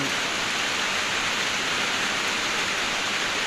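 Steady rain falls on farmland, a dense even hiss that stays constant and fairly soft throughout, with no voices.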